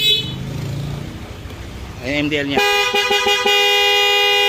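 A car's stock horn with plug-and-play mini driving lights fitted gives a series of loud, close honks in a short steady burst, following someone talking.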